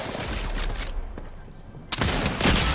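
Bursts of rapid gunfire in Fortnite, a loud volley at the start, a brief lull, then another heavy burst close by.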